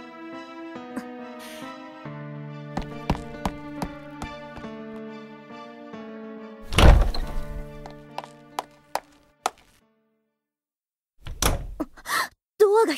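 Door in a drama CD opening by itself, a heavy thunk and creaking rumble that follows gentle music with scattered soft knocks, then a pause and a few more bumps.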